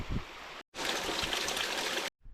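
A creek flows steadily in a broad, loud water rush, broken by two short dropouts, with a brief trickle at the end.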